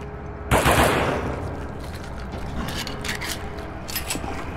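Rapid automatic gunfire from a marine's weapon in the Alien vs Predator (2010) marine campaign, bursting in loud at first and then rattling on continuously with sharp cracks and clanking mechanical noise, with no talking.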